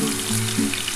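Potatoes fry in a pan with a loud, close, continuous sizzle for a brief moment.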